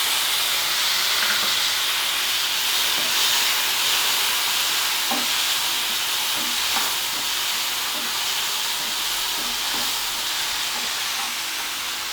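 Tomato pieces fry on a medium flame in a pan for hotel-style tiffin sambar, giving a steady, even hiss of sizzling that holds at one level throughout with a few faint clicks underneath.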